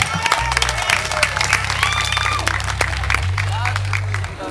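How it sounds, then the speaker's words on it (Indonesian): Audience applause and cheering at a Padang State Polytechnic stage show as a band prepares to play, dense clapping over a low sustained bass note from the stage, with speech mixed in. "Buat tepuk tangan dulu dong buat Politeknik"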